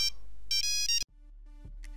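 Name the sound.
phone ringtone ringing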